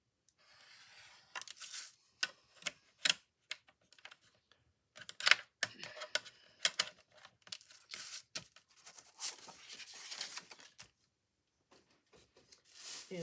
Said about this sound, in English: we are gonna score this just to make it easier to fold